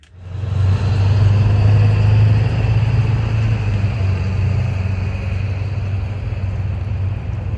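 An RV engine starts up and settles into a steady, loud low rumble as the vehicle slowly backs out of a parking lot, with the drone holding constant for several seconds and no voices.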